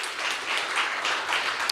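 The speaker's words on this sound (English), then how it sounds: "Let's give a big round of applause to Adrian and all the guys that kind of put this together for us." Audience applause at a B-Sides Knoxville security conference talk, a steady wash of many hands clapping at moderate distance, even and sustained without talk.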